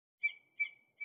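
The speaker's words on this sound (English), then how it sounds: "Say, look! A bird was in your ear." A cartoon bird call sound effect from a Dr. Seuss One Fish Two Fish story app: three short, bright chirping calls in an even rhythm, clean and close, with silence between them.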